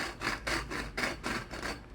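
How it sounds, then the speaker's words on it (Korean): A hand saw cuts through a bicycle steerer tube that has already been grooved. Eight even back-and-forth rasping strokes come at a steady rhythm, close and clear, with no talk. "그냥 이 상태에서 톱질을 하는 게 훨씬 더 빠르겠죠."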